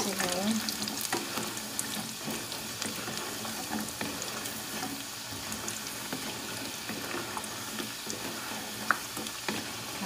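Taro pieces stirred into caramelized sugar in a pan give a soft, continuous sizzle with scraping and stirring noises, faint and steady throughout.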